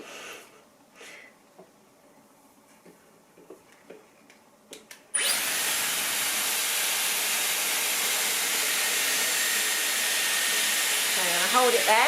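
A Dyson Airwrap hair styler switches on partway through and blows hot air, a loud steady rushing whoosh that stays constant after quieter handling noises and brief rustles at the start.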